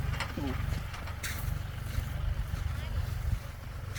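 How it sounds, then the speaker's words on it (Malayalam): A tractor forms raised ridges across a two-acre farm field, giving a steady low engine drone mixed with gusty wind noise. A brief burst of voice is heard near the start. "ട്രാക്ടർ ഉപയോഗിച്ചത് വരമ്പെടുത്തിരിക്കുകയാണ്"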